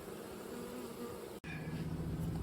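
Honeybees buzz steadily around an open hive box during a frame inspection, a dense close hum filling the air with one brief cut-out midway before the swarm drone resumes.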